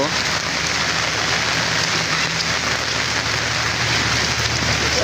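Heavy rain pours down outdoors in a dense, steady roar of drops that is loud and unbroken throughout, with no clear talk over it.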